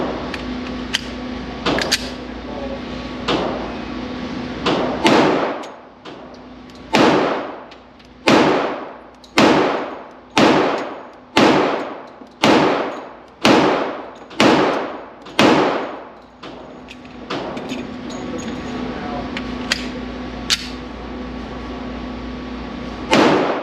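A Sig Sauer X Ten 10mm pistol fired downrange, about a dozen loud sharp reports in a steady, fairly quick sequence, each ringing out briefly, with quieter handling noise before and after.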